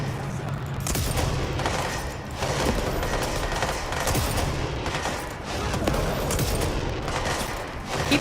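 Sustained bursts of video-game gunfire in Control, loud and dense, pausing briefly between volleys and then resuming.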